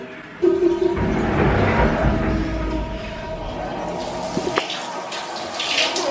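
Bath water runs from a tap while a small child is bathed, a close rushing flow with splashes and clatter that eases after a few seconds, with faint voices in the background.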